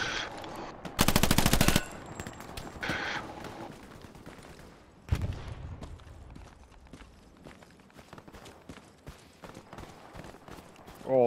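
A tank opens fire during a video game battle: a loud, dense burst of rapid shots early on, a second burst and a heavy impact, then scattered gunfire and clatter continuing at a distance.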